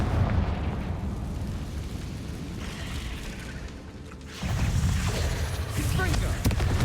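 A Confringo blasting spell erupts in the video game Hogwarts Legacy, giving a loud, sustained roaring explosion that dips briefly and then swells again into a second heavy burst with crackling debris.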